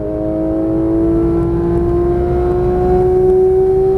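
A Porsche 991.1 GT3 flat-six screams at high revs on a track, its steady tone climbing continuously through the clip, loud and close with no talk.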